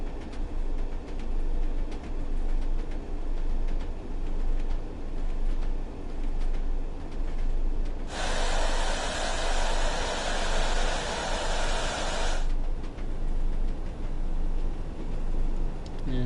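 A Northern Trans Pennine train coasting downhill in Train Sim World 5, a steady rolling rumble and wheel noise throughout, with a loud broadband hissing burst for several seconds midway.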